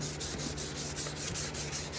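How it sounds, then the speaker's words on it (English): Steady hand sanding of a hazy plastic car headlight lens, a continuous close scratchy rubbing with rhythmic back-and-forth strokes, heard alone without talk. "when you sand this, you can go in different patterns, up and down, left to right, figure eights"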